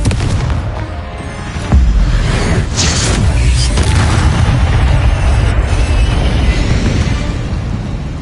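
Confringo, an explosive fire spell cast in the Hogwarts Legacy video game, lands as a loud booming blast followed by a rumbling, crackling roar that sustains for several seconds.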